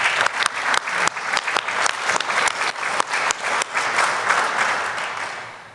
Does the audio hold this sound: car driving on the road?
no